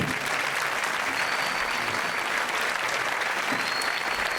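A concert audience in Aielo de Malferit breaks into strong, sustained applause, a dense even wash of clapping that holds steady throughout without pause.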